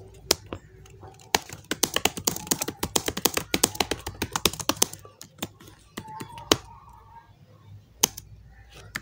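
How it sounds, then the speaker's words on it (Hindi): Rapid typing on a computer keyboard during typing practice software drills, dense bursts of sharp key clicks for several seconds, then sparser isolated keystrokes, close and clear. "अब मैं आपके सामने इसको टाइप करता हूँ तो देखते हैं हमारा रिज़ल्ट क्या आता है"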